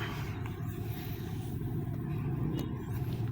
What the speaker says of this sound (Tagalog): dami rin nakapilang sasakyan